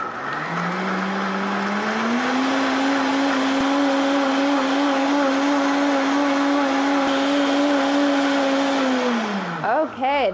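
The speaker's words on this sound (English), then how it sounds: "we're gonna blend this on high speed for probably about a minute until the cashews get nice and smooth" A blender whirs on high speed through cashews and water, a loud steady motor whine that holds its pitch for about nine seconds before spinning down.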